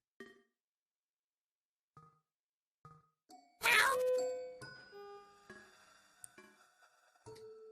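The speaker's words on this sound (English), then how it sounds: "It's the cat." A cat meows in the video game YIIK: a few short, faint mews, then a louder drawn-out cry, with chiming tones and jingles around it and no talk.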